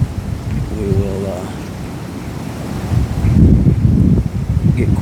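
Strong wind buffets the microphone in thick woods during a late-season hunt. A loud, rumbling roar swells and gusts throughout, and a voice is briefly audible beneath it.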